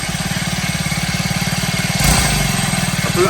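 A small motorbike engine, hard to start from cold, runs at a steady, rapid putter close by, briefly growing louder and rougher as it is revved.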